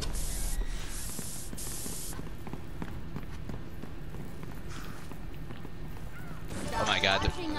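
An enhancing spray in Resident Evil Resistance lets out several short hissing bursts, then a longer spray, amid running footsteps and game noise, with a player talking over it.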